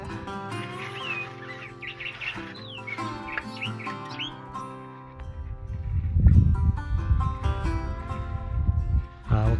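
A thrasher sings a varied run of whistled, mimicking phrases in the first half outdoors near a root cellar build, over steady low hum; louder low-pitched rumbling and handling noise take over later.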